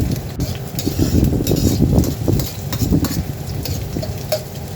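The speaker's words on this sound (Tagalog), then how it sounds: "So habang mainit na yung ating mantika, abay una nating ilalagay yung ating sibuyas." Onions go into hot cooking oil in a pan and are stirred, a close, busy sizzle with scraping strokes rising and easing over a few seconds, no voices.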